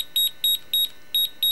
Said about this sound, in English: Beep beep beep beep beep beep.